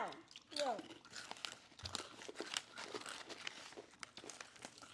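Crisp crunches and crinkles of someone biting and chewing a rice cracker snack, close and irregular, with a packet rustling and people talking over it.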